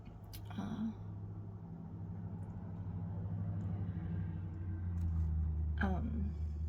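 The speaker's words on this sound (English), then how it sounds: "I got distracted by that loud truck going by" A loud truck passes outside, its low rumble building gradually and swelling toward the end while a person talks indoors.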